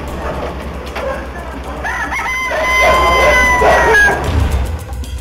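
A rooster crows several times over a low steady rumble, the calls rising and drawn out, fairly close and loud, with faint background voices and farm noise.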